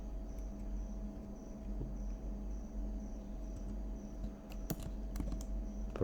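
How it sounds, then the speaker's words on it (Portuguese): Steady typing of a Linux directory path on a computer keyboard, a quiet run of light key clicks over a low electrical hum, with a few sharper taps near the end. "eu precisei digitar"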